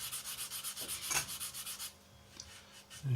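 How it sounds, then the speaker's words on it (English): A small sanding stick rubs parts of a 1/72 scale Eduard B-24 plastic model kit in quick, regular back-and-forth strokes, close and soft, pausing near the end. "If you use a smaller sanding stick, you won't end up obliterating all your detail around it."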